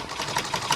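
A newly gifted sewing machine starts stitching, giving a steady, close mechanical whir with a quick repeating pulse across a brief moment, no talk over it.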